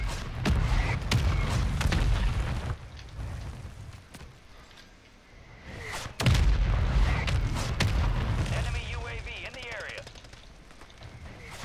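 Mortar and gunfire in Call of Duty: Warzone, with heavy booming blasts and rumbling impacts that recur through the stretch, one sharp loud hit midway, all fairly close and dense.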